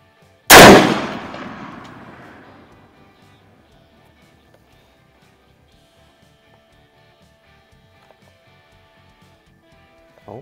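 A single loud, close gunshot from an Izhmash Saiga .223 AK-pattern rifle at an outdoor range cracks sharply, then its echo rolls away over a couple of seconds before quiet returns, with a faint click at the very end.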